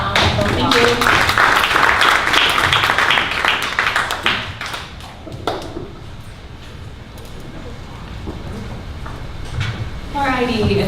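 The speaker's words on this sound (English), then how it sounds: "Everybody, please give Sadie a round of applause." Audience applause at a Dallas startup pitch event fills the first few seconds, dense and fairly loud, then fades under a voice speaking over the room.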